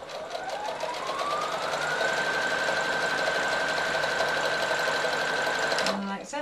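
A sewing machine stitching with a zipper foot on a fabric tissue box cover, a steady fast mechanical whirr rising in pitch and holding for several seconds before stopping, close up, with a voice speaking over it.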